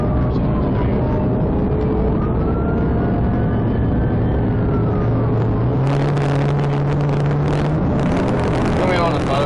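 A motorcycle held at full throttle at about 130 on Highway 78 during a police chase, a loud, continuous engine drone with the pitch rising as it accelerates, under heavy wind rush, with a siren-like wail and voices mixed in.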